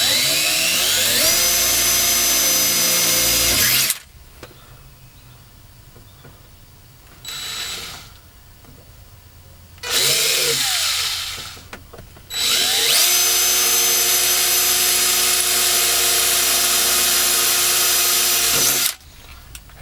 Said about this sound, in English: I'm gonna go ahead and drill out these holes a little bit.